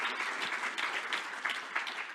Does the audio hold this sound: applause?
yes